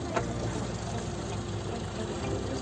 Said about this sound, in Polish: To silnik.